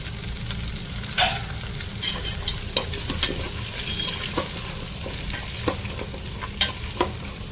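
Carrot, potato, beans, drumstick, bottle gourd, okra, cauliflower and peas fry in a pan for temple-style sambar rice, a continuous sizzle broken by repeated scraping stirs and clinks of a spoon.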